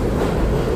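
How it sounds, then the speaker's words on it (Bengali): A New York City 6 subway train passes through a station near Fordham Road in the Bronx, a steady close rumble of rolling wheels and car noise with no talk over it. "ট্রেনটা যাচ্ছে"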